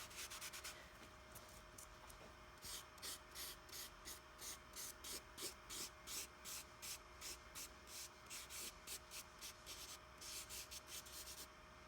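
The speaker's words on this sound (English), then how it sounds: "I'll just erase that" Eraser scrubbing charcoal off a paper self-portrait drawing in quick, regular back-and-forth strokes, close and soft, with a faint steady hiss between strokes.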